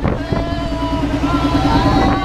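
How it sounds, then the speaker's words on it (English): An outboard boat motor drones steadily and loudly, steady harmonic hum throughout, while the boat is turned around in big waves near a dock in Cambodia. "He's trying to turn around the boat"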